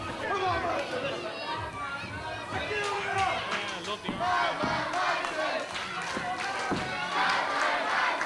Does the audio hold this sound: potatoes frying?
no